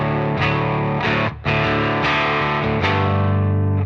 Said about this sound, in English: This is what it sounds like without the saturator plugin.